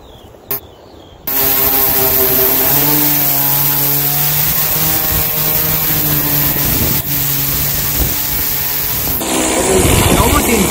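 A two-stroke engine running with too much oil and green-tinted fuel makes a loud, steady buzzing drone close to the microphone for most of the clip, with a brief dip near the end.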